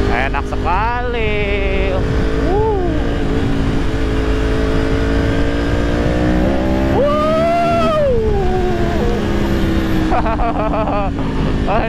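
A Yamaha R1 sport motorcycle revs and accelerates hard with rising and falling engine pitch, the loud engine sound filling the whole stretch while a rider talks over it.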